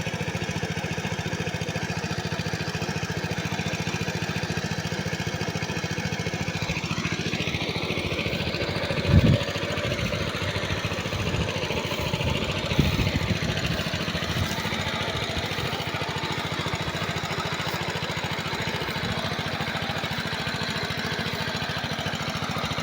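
A steady mid-pitched engine-driven water pump drones continuously throughout, with a couple of brief knocks midway; no talking.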